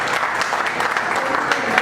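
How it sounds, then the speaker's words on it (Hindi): An audience at an NGO award ceremony claps to welcome a guest, a loud, steady burst of many hands applauding throughout, with crowd murmur blended underneath. "तालियां बजाइए, आनंद जी आए।"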